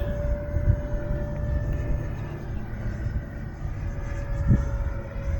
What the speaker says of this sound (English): Wind's definitely still kicking this plane around.